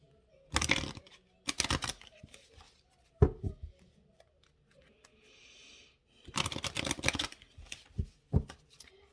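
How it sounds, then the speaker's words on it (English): Mermaid oracle cards are shuffled in several brisk bursts of crisp riffling and flapping, close up, separated by quiet pauses with a few light taps. "So we're going to get some mermaid cards here to see how Spirit and the universe are guiding the divine masculine at this time."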